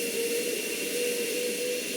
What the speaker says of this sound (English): our second engine is starting on now, it's pretty well ready to go